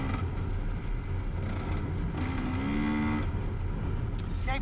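Four-stroke 450 Husqvarna and two-stroke dirt bikes on a trail, a steady loud engine drone with a revving whine rising in the middle, continuous throughout.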